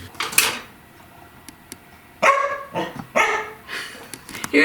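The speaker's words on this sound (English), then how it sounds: "Brownie, our dog, smells the bacon. So now she is barking because she wants one too." Brownie, a pet dog, barks several times in a kitchen where bacon is cooking, sharp mid-distance barks spaced irregularly, with some clatter around them.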